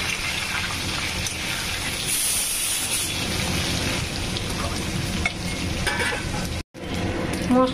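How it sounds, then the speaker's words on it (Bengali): Cut brinjal lightly frying in oil with bay leaves and black cumin seeds, a dense steady sizzle and hiss that runs throughout, broken by a brief near-silent gap near the end. "বেগুনটি হালকা ফ্রাই করে নিব।"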